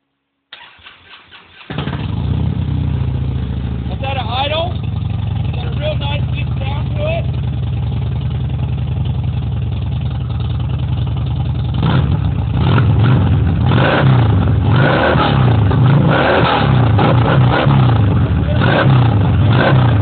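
A 2009 Harley-Davidson Dyna Glide motorcycle with a new stage 2 exhaust cranks, fires up and settles into a loud, throbbing idle close by, then is revved in repeated surges near the end; a voice is heard over it.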